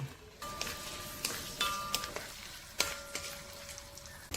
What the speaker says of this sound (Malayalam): ചൂടായപ്പം ഒരു സ്പൂൺ എണ്ണ ഒഴിച്ചു കൊടുക്കാവേ. ആദ്യമേ എടുത്തു വെച്ചിരിക്കുന്ന തേങ്ങാക്കൊത്തിട്ട് കൊടുക്കാം.